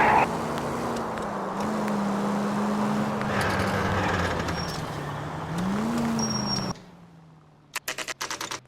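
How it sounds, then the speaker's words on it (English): A car pulling out of a driveway in the L.A. Noire video game, a steady low engine hum rising and shifting in pitch under ambient game sound, then cutting out to quieter clicks. "That's the car, Cole. Just pulling out of the drive."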